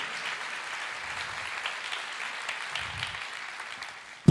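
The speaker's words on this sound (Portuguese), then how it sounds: "Pode aplaudir." A church congregation applauds during a sermon, a soft, steady patter of clapping from a crowd that holds evenly for a few seconds before a sudden knock at the end.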